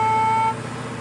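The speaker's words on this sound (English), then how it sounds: "The sound of the school bus honking" A school bus honks its horn once, a steady sustained tone lasting about half a second over a rumbling engine, up close.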